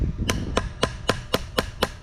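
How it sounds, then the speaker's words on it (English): Repeated hammer blows drive a Harbor Freight knife blade into soft wood, about seven sharp evenly spaced strikes close up, with no talk. "hammer it down a little bit,"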